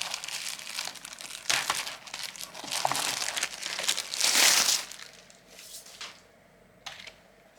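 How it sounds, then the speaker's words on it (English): Plastic wrapping crinkling and rustling as a Logitech MK270R wireless keyboard is unwrapped, irregular bursts of crisp crackling close to the microphone, fading to quieter rustles near the end. "So all wrapped up in plastic."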